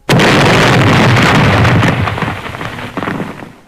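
A sudden, violent explosion booms loudly, its heavy rumble rolling on and slowly dying away with scattered crackles.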